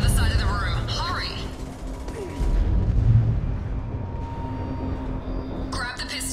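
Explosions and gunfire during an attack on a facility in Mass Effect 2, deep booms and rumbling blasts with sharp bursts, loud and sustained beneath a speaking voice.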